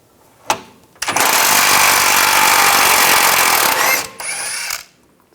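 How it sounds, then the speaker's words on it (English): A power tool with a 15mm socket whirs loudly and steadily for about three seconds to back out a bolt on the spare tire carrier of a 2015-2020 Cadillac Escalade, then a shorter second burst, with clicks before. "Using a 15mm socket, we're going to take that bolt out."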